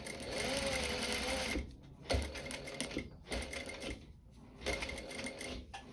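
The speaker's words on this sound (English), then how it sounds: "I always like to start with a couple of stitches backwards and forwards. And then you just need to follow your pins." A sewing machine stitches a dart in fabric, running in several steady whirring bursts separated by short pauses, close and clear with no talking over it.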